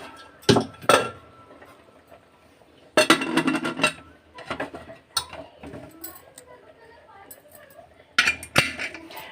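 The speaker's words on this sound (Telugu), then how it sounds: "కుక్కర్ మూత పెట్టేసుకుందామండి." Metal clatter and clinks in a few separate bursts as a pressure cooker lid is set and locked in place, with quieter handling between.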